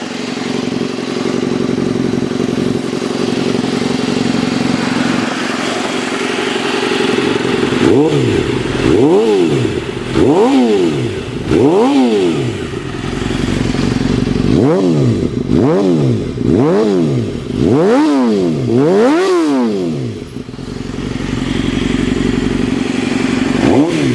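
A Yamaha R6 motorcycle fitted with an Arrow slip-on exhaust is revved hard several times in a row, each sharp blip rising and falling back toward idle. The bike sounds loud and close, with no voices over it.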